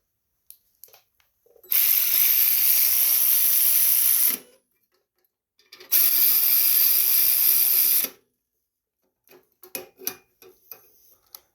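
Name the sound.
tightening screws on a Briggs tiller carburetor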